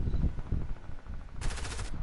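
Bursts of video-game gunfire aimed at a box, a rapid rattling volley late in the clip over low, rumbling game background noise, with no voices.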